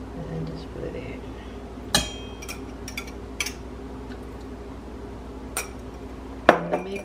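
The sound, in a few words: stirring almond cookie dough in a bowl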